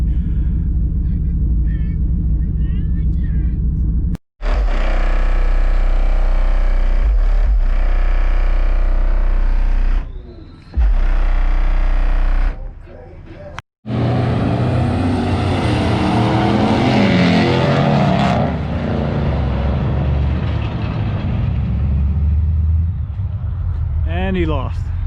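A 450 pickup truck at a truck show revs hard, its engine roaring loud and sustained in long bursts broken by brief cuts, with people talking over the noise.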